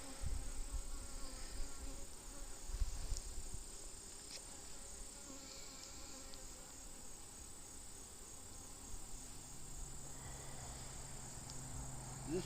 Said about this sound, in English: This hive's starting to make a little bit more noise.